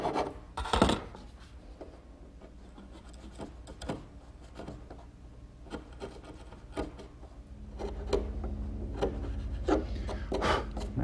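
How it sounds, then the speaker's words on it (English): Sharp chisel paring wood out of a saw-cut notch in a shelf blank for a turkey table: intermittent scraping and rasping strokes with a few sharp taps, close and fairly quiet, with a low rumble building in the second half. "then I'll use a sharp chisel to remove the rest of the material"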